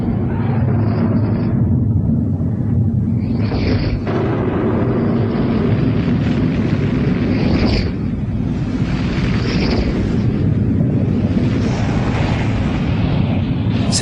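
Massive rumbling explosion from an asteroid collision, a dense, sustained roar with repeated swelling bursts throughout, loud and continuous like a documentary sound effect.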